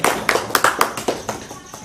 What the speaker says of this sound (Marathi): जरा जोरदार टाळ्या वाजवा